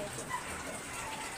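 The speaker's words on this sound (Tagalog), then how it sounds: "Ayan, umagang umuulan." Steady morning rain during a rainy-season spell, a dense, even hiss of falling water with a faint background voice underneath.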